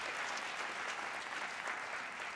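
Steady applause from an audience at the 92nd Street Y in New York City during a talk event, a dense, even wash of clapping held throughout with no voices on top.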